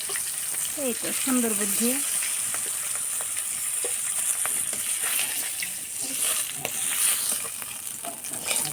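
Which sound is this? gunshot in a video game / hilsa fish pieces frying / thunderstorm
hilsa fish pieces frying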